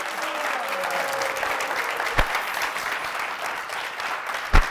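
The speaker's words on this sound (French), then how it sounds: "Plus d'applaudissements pour les invités, s'il vous plaît, public." A studio audience at a New Year's special television show applauds its guests. The clapping is steady and sustained, and a couple of sharp, heavy thumps stand out near the middle and the end.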